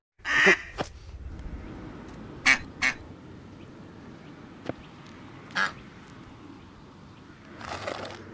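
Ducks quack a few times at scattered intervals, sharp nasal calls over a steady outdoor background, with a louder burst of quacking near the end.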